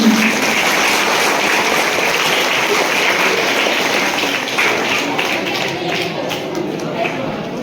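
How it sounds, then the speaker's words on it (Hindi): Audience at a school Teachers' Day honour ceremony applauding, a dense steady wash of many hands clapping that continues loudly for several seconds, tapering slightly toward the end. "एक बार जोरदार तालियां"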